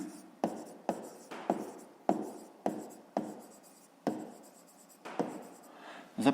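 Chalk or a marker taps and scratches in quick, short strokes as numbers are written on a board, about a dozen crisp bursts in an uneven rhythm, close and fairly quiet, with no talking.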